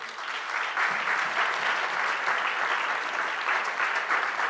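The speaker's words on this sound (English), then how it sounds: "Let's give the Lord a clap offering." A church congregation claps together as a praise offering, a dense, even burst of applause that holds steady for several seconds with no voices over it.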